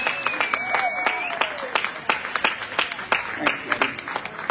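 Steady audience clapping at a sheep shearing competition's wool handling event, a dense run of sharp claps with brief whistles over it and some crowd chatter underneath.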